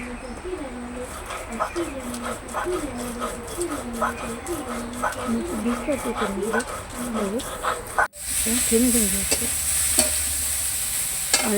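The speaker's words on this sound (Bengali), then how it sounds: "এবার একটু তেলে ভেজে নিচ্ছি ফুলকপি আর আলুটাকে" Cauliflower and potato pieces sizzle in hot oil while being stirred, a steady close frying hiss with rhythmic scraping, and a voice talks over it throughout.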